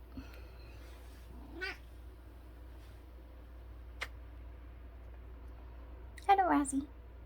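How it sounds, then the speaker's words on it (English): A cat meows twice, a short mew early on and a longer, wavering meow near the end, both fairly close over a quiet room hum, with a single faint tick between them. "There's a cat."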